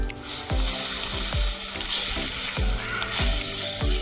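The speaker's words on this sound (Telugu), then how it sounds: "ఇప్పుడైతే మేము కడిగి పెట్టుకున్న రొయ్యలు వేసుకుంటున్నాం." Washed prawns fry Andhra style in a pan with tomato, giving a soft steady sizzle punctuated by repeated knocks of a utensil stirring against the pan, outdoors in a garden.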